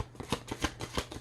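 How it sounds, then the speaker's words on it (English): Slippery tarot cards are shuffled close up in quick riffling bursts of soft papery slaps, about a dozen in a little over a second, faint and alone. "probably some of you are irritated by the shuffling"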